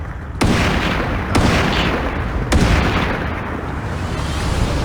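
Gunfire in a video game shooter, three loud sharp shots spaced about a second apart, each with a booming tail, over a steady noisy game background.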